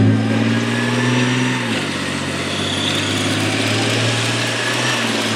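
A heavy military vehicle engine drones steadily nearby at a modern British Army demonstration, its pitch dropping once partway through, with no talking.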